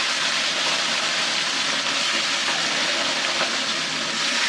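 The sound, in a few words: koi fish frying in a pan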